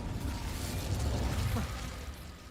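An Incendio fire spell cast in the video game Hogwarts Legacy gives a rushing, crackling burst of flame over a low rumble, swelling mid-clip and then fading.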